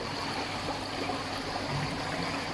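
Water pours out of the waste valve of an Evolution Aqua Eazypod pond filter, a steady close gush and trickle with a constant rushing hiss throughout.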